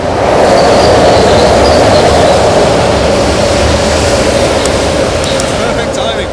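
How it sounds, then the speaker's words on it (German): A train rumbles loudly overhead across a railway bridge in Bavaria, a continuous close roar of wheels and wagons with faint squeals, heard from underneath the span. "dass gerade ein Zug dann runterfährt"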